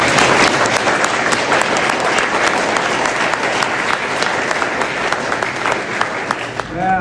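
Crowd at a Hapkido training event at a fighters' club in Bahadurgarh giving loud, dense applause, continuous clapping for several seconds that fades at the close as a voice begins.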